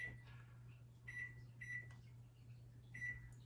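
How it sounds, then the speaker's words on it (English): A microwave timer being keyed in during venison stroganoff cooking, heard as several short electronic beeps spaced unevenly over a steady low appliance hum, with no speech. "I'm going to set the timer for 7 minutes"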